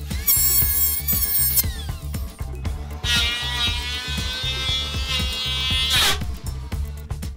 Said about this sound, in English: Taking the planer across the grain here, and I've ripped off the top of the wood.